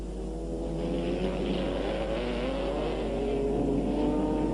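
Autocross race cars, including a Volkswagen with a Golf GTI engine, roar and rev continuously at close range on a dusty track, a dense, steady mechanical drone with rising and falling pitch.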